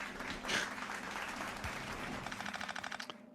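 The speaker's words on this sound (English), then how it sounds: "Thank you for the applause, for some reason." Steady applause sound effect fills the clip, ending in a quick burst of separate claps before stopping abruptly.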